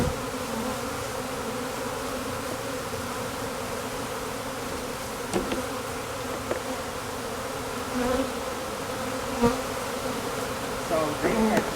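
A swarm of bees building wax inside a trash can makes a dense, continuous buzz up close, with a few faint knocks and rustles over it and no talk.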